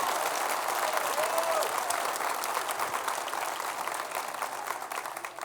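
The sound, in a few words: congregation applause in church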